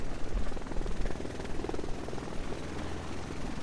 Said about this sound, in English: And that helicopter's there.